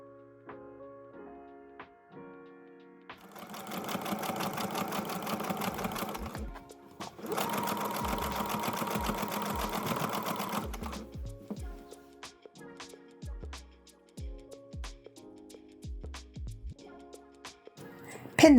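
A domestic sewing machine runs a stay stitch along the folded edge of a loungewear robe band, whirring steadily in two sustained bursts, then stopping and starting in short stitches with soft clicks, close and clear with no talking.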